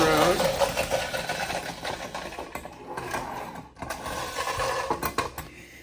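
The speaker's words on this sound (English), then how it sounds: "you too can buy a friction-powered Mighty Atom Jet" A friction-powered Astro Boy Mighty Atom Jet toy motorcycle runs with a buzzing, ratcheting whir up close, its mechanism surging and fading as a voice speaks over it.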